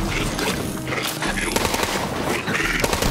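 Rapid automatic gunfire in the video game Borderlands 3, a dense, continuous burst of shots for the whole span, loud and close, with game effects layered over it.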